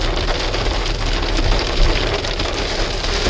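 Steady rain patters on dense rubber trees in misty weather along the Kottoor to Peppara Dam route, a dense, even hiss that continues unbroken throughout, fairly loud and close.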